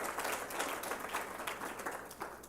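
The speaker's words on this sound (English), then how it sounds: "Let's give him a round of applause." A room of conference attendees applauds a visiting ambassador at a Kenyan digital and BPO hub event, a fairly quiet but continuous patter of many hands with small swells, no voices on top.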